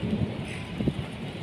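Heavy rain falls steadily in a hot night-time setting, a soft, even hiss with a few slightly louder patches of drops, and no voices.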